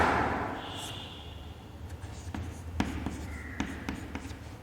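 Chalk or marker scratching across a classroom board in short strokes and taps, close and fairly loud, with a faint background hum.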